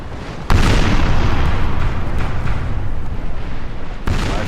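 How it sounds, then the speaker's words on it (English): Frigate cannons in Napoleon Total War fire in a sea battle, a sudden heavy boom opening a dense rumbling roar of broadside gunfire that continues loud and unbroken, with another sharp report near the end. "My frigates are pounding away at them."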